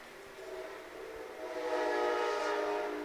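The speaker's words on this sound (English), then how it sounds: "The train's coming through town." A train passing through town with its horn blowing, a steady distant rumble and a long sustained horn tone swelling in loudness toward the middle before easing off, no talking.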